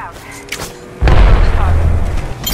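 Arcstar grenade blowing up in a video game: a quiet stretch, then a sudden loud, deep boom that rumbles on for well over a second before tailing off.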